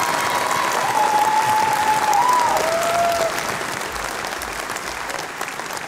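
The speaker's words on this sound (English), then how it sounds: "Big round of" Sustained applause from a large audience at an MIT graduation ceremony, with a faint tone running through the first half. The clapping stays dense and steady and thins slightly toward the end.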